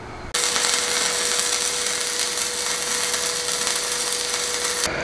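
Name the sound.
arc welding with Smarter Starevo 200M welder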